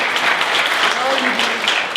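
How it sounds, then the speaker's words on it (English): An audience applauds a guest at a makeover challenge event, steady clapping throughout with a faint voice briefly audible beneath it. "So give her another round of applause."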